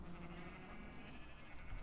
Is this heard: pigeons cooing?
no